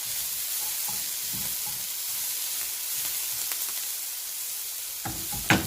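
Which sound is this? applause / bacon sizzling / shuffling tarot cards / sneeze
bacon sizzling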